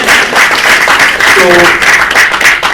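Steady crowd applause fills the space, dense and continuous, with a brief voice or tone rising briefly in the middle.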